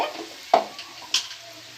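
Onions frying in a kadai, with a steady soft sizzle broken by two sharp spatula clanks against the pan, close up and with no talking.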